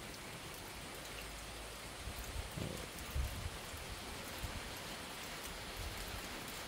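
Monsoon rain falls steadily on a farm dome, a dense, even hiss of drops on the surface with a few heavier taps, continuous and unbroken throughout.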